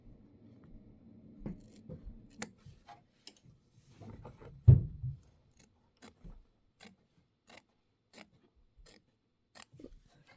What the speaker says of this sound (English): Let's go ahead and trim this.